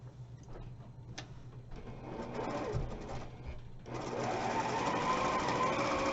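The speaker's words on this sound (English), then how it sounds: "I'm going to sew corner to corner" Sewing machine stitching quilt fabric corner to corner, a few light clicks and handling noises, then the motor whirs into a steady close hum that keeps running to the end, with no talking.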